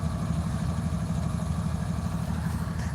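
Mine train locomotives idle trackside at Mount Hope, West Virginia, a low, steady diesel rumble with a faint throbbing beat and no voices.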